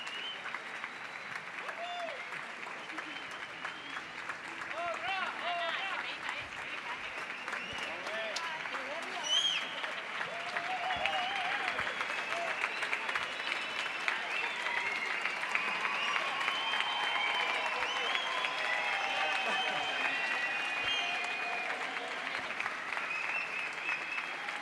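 Sustained audience applause at a La Patum choral concert, a dense, even patter of many hands clapping from a sizeable crowd and swelling slightly midway, with some speech underneath.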